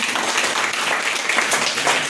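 A dense, steady wash of crowd applause fills a women leaders' Chaurasia Swabhiman Rally in Munger, Bihar, with many hands clapping loudly and continuously throughout, with no talk.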